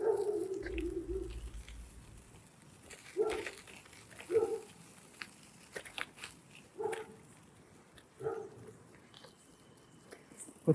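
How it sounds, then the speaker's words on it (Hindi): Dogs bark and howl at a distance outdoors along a roadside on a cycling route from Delhi to Agra. The calls are faint and come in scattered short bursts over a low background. "कुत्तों की चहचहाने की आवाज़ आ रही है यहाँ से।"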